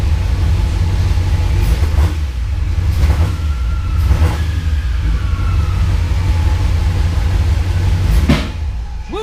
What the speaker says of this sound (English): Lean backfire.